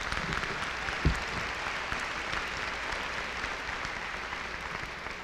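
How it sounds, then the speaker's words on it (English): Sustained applause from the audience at a 2016 high school graduation ceremony, a dense steady patter of many hands clapping at moderate distance, with one sharper thump early on and no speech over it. "That deserves an applause."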